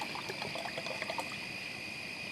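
A full bottle of water pours steadily into a pot, making a continuous soft splashing trickle up close with no talking.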